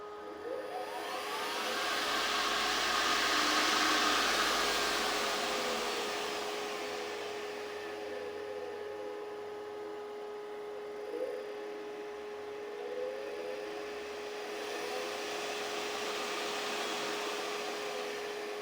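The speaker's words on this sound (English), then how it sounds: "quiet running motor" A Solectria electric AC motor running on a test bench, a quiet steady whine with a constant tone and a slowly rising and falling whir, no voices.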